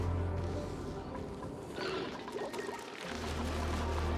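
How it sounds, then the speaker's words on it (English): Water pump pumping water in the game Oxygen Not Included, a pouring, gurgling liquid sound over a low steady machine hum that briefly dips before resuming. "So much that this thing is just pumping that water."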